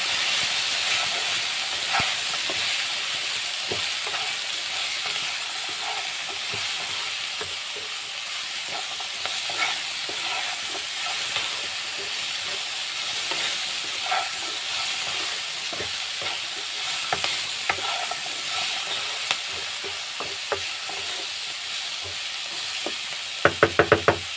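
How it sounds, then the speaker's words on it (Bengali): Spice mix with cumin and coriander powder being stirred in a hot pan, giving a continuous loud hissing sizzle dotted with scattered scrapes and knocks of a utensil. A brief burst of clatter comes at the end. "আমি খুব ভালোভাবে এটা নেড়ে তেড়ে নিচ্ছি"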